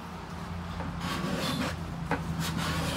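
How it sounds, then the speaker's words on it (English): A scraper is drawn over the wooden sides of a Trigger 2 guitar under construction, a close, dry rasping in uneven strokes, steady with a few sharper scrapes toward the end. "Take your scraper, get your file, and just make sure it's got an edge on here. Scrape it."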